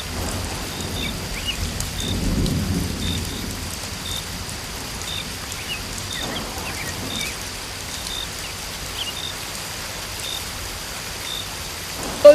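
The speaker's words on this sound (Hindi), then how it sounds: "अरे अरे, ये तो बारिश होने लगी।" Steady rain falls in a cartoon village scene while a low roll of thunder rumbles early on, the downpour hissing evenly throughout with no voices.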